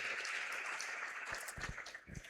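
A church congregation applauds during a Spanish-language sermon, producing a steady wash of clapping throughout that stays fairly even in loudness, with a few heavier claps near the end.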